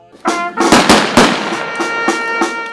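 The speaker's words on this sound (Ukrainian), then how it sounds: "За воєнним звичаєм простилися з Євгенієм Приходько військовим салютом." A military gun salute volley fired at a soldier's funeral in Sumy, Ukraine, giving a rapid series of sharp loud cracks followed by fainter, spaced shots over a ringing tone.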